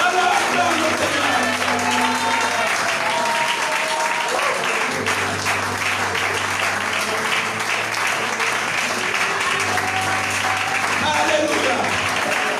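A church congregation applauds steadily during a worship service, dense continuous clapping with a sustained musical drone beneath it and singing or voices mixed in throughout.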